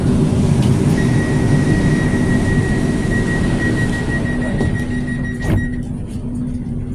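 An old LRT Line 1 light rail train runs at Bambang Station in Manila, with a loud steady rumble of wheels and motor and a sustained high whine, heard alone with no talk.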